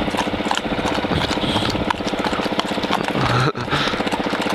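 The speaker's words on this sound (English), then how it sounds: "Oh shit, that's horses." Horses' hooves clip-clop at a steady walking pace close by, mixed with a low idling motorcycle engine hum and brief rustling.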